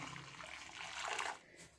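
Milk pours into a wok while making dudh puli pitha, a brief, soft liquid splash and gurgle heard close up and alone.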